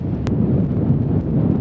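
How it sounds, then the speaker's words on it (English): Strong wind buffets the microphone on a remote island during a storm, a loud, continuous low roar with gusty rumbling and one brief sharp knock. "It is super windy"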